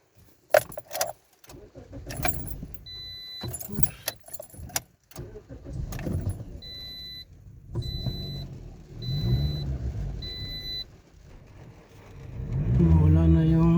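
A car engine cranks and starts near the end, rising to a steady idle rumble, after a stretch of keys jangling, clicks and handling noises with voices talking in the background.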